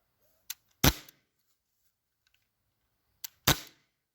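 A Lancer Tactical Cobra 1911 pistol firing twice in a quiet setting, each shot a sharp, close snap preceded by a brief click, separated by a pause of a few seconds.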